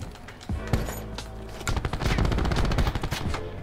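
Rapid automatic gunfire in the Black Ops 4 video game, a dense rattling burst of closely spaced shots that builds after a few single cracks and stays loud throughout.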